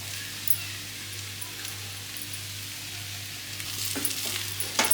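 Grated coconut being stirred into Godavari-style banana flower usili in a pan, a steady soft sizzle with faint scraping stir strokes toward the end, no talk.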